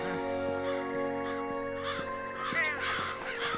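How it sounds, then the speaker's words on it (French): Cartoon birds caw repeatedly over steady background music, the calls clustering toward the end. "J'aime pas trop tous ces oiseaux."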